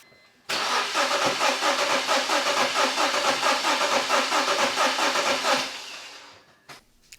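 A BMW E46 325xi wagon engine with about 220,000 miles cranks over on the starter for a compression test with the fuel pump disconnected. It gives a steady rhythmic whirring churn for about five seconds without catching, then winds down.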